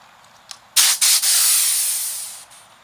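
A VIAIR 400P-RV portable air compressor being bled releases a loud, close burst of broadband air hiss that stutters twice, then holds steady for about a second and a half before tapering off.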